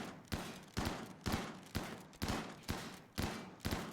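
A chain shotgun firing in RimWorld, about nine sharp blasts at a steady quick rhythm, each with a short decaying tail, moderately loud with no talk.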